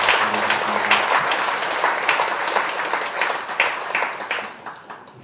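A church congregation claps to welcome visitors at a Sunday service, a moderate, uneven patter of hands that swells and gradually thins over several seconds.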